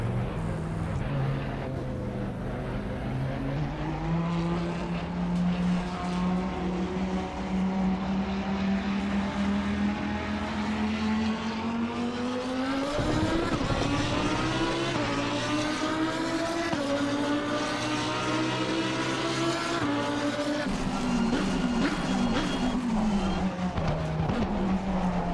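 Lamborghini Huracan Super Trofeo racing engine in a sim racing game, a continuous loud engine howl whose pitch climbs steadily through the gears, dips at shifts and rises again, heard alone without talk.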